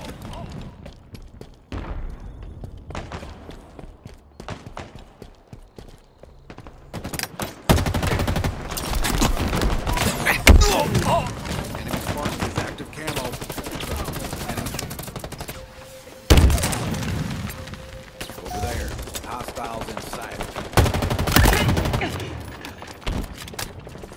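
Gunfire in a Halo Infinite multiplayer bot match, with bursts of shots and heavy impacts over continuous game noise and music, a few sharper thuds standing out, and callout voices heard in places.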